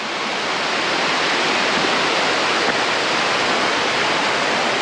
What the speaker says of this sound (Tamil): பாருங்க, அங்கேருந்து தண்ணி பாயுது.